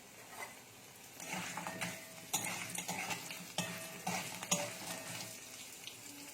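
Bori lentil dumplings frying in oil with panch phoron while being stirred: a steady close sizzle with scraping strokes of the spatula and a few sharper clinks against the pan.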